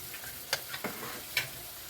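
Egg noodles with plenty of onion are stirred in a pan over a soft sizzle, with a few light clinking scrapes of the utensil close by. Faint overall, with no speech.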